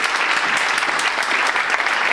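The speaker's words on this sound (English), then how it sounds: "Give Gary a little ripple of applause." Loud, close applause from a church congregation, a dense, steady run of clapping from many hands throughout, with no voices over it.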